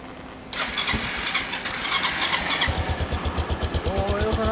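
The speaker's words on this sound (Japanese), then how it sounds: "エンジン音聞かせてもらえる？" A 2003 Kawasaki Estrella RS motorcycle cranks and fires up nearby, the starter whir giving way to a steady, thumping single-cylinder idle with even, rapid pulses.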